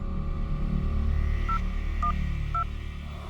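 Three short phone keypad beeps as a number is typed, evenly spaced and fairly clear over a steady low background hum.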